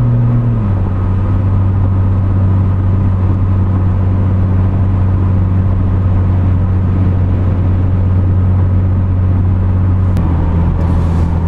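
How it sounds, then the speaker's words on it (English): Steady, loud in-cabin drone from a 2010 V6 Camaro with an MRT exhaust as it downshifts, the engine hum stepping to a new pitch early on and again near the end, with no voices. "I'm going to downshift, let's just hear the car go from the 1800 range on up."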